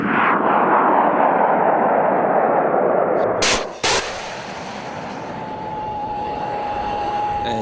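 Artillery fire at an Army training exercise at the National Training Center: a broad roar, then two sharp blasts in quick succession, followed by a long fading rumble with a faint steady tone.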